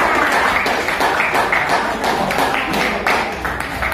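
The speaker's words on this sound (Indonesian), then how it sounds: "Ya, kasih tepuk tangannya." A class of high school students in Indonesia claps together in a steady, dense burst of applause, close and fairly loud, with little talking over it.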